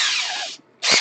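Power drill spins briefly during Prusa i3 MK2s Y-axis assembly, a close, high whirring burst that stops for a moment and then revs up again in a second short burst.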